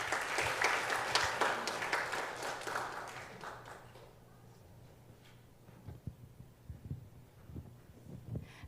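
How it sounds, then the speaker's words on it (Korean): Audience applause welcoming a Christian counselor onto the stage at a church family seminar, a dense, steady wash of clapping that fades out midway, leaving scattered quieter taps and room noise. "우리 기독교 상담가 김세미 사모님을 박수로 초청하도록 하겠습니다"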